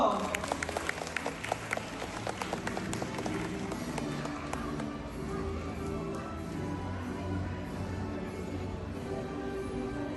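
Audience applause at a graduation ceremony in Phnom Penh: a burst of many hands clapping, loud and dense at first, then settling into a steadier, softer wash of claps and crowd noise.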